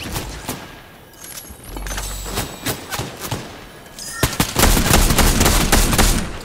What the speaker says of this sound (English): There's another team shooting us in the back.